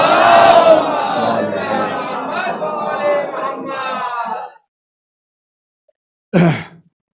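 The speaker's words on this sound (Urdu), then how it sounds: "ایک سلوات بلند آواز سے محمد۔" A crowd of many voices chants salawat together loudly for several seconds, then falls silent before a short burst of voices near the end.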